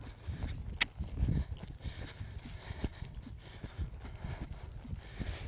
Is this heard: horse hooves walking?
yes